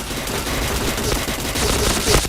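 Rapid bursts of gunfire crackle throughout a shooting video game, dense and loud, with overlapping shots and a brief sharper burst near the end.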